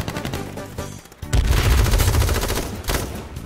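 Loud, dense automatic gunfire in the video game H1Z1, a rapid rattling burst that swells after a short lull and keeps going almost without a break.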